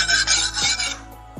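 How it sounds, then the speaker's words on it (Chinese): A knife being sharpened on a farm in rural Guangdong before chickens are slaughtered: a few close, rasping scraping strokes with short pauses between them, and faint fowl sounds in the background. "再磨个刀先。"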